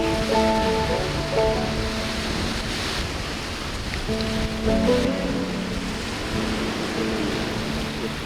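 Ocean waves washing onto a beach in Sardinia, a steady broad roar of surf with faint tonal background sounds drifting in and out, no voices.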